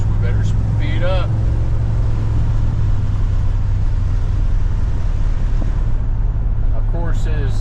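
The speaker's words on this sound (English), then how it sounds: "we're going to take our 63 Buick Riviera for a little test drive" A 1963 Buick Riviera with a V8 engine drives along on a road test, its steady engine and road rumble filling the cabin at close range, with brief voices heard near the start and end.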